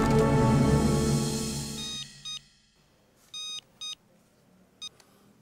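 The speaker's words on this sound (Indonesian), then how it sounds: "SMS dari siapa, Pak?" Phone SMS notification beeps: a run of short, clear electronic bleeps in a quiet room, coming as separate pulses after a louder sound fades out.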